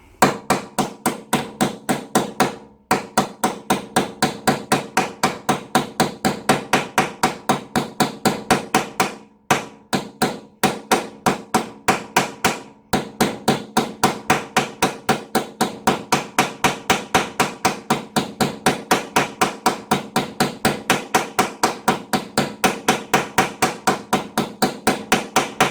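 Steering head bearing race hammered into a Suzuki GSXR750 motorcycle frame, a long run of rapid, evenly spaced metallic blows, loud and close, with only a few brief pauses between bursts.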